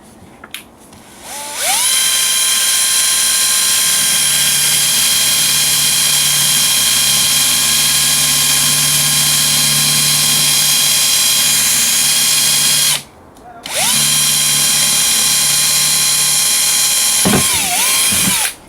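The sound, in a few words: power drill drilling holes in a worm box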